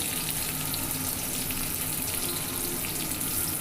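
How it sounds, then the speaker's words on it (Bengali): Thinly sliced onions frying in leftover oil in a pan give a steady, close, even sizzling hiss with no pauses. "আর যে তেলটা অবশিষ্ট আছে তার মধ্যে কিন্তু আমি পেঁয়াজগুলো দিয়ে দিচ্ছি।"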